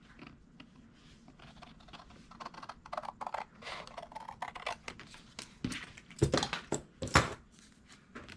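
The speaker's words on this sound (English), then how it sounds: "I am going to use my We Are Memory Keepers scissors that came in a pack" We Are Memory Keepers scissors trim paper for a handmade no-sew journal, giving quiet, rapid snips and rustles close to the microphone, with a few louder crisp cuts toward the end.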